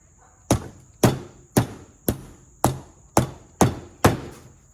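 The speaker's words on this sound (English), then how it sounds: "take this crappy hammer and see if I can drive a nail through the bottom of the sole" Eight sharp, evenly spaced hammer blows drive a nail through a shoe sole, each a hard metallic strike with a short decay, close and loud.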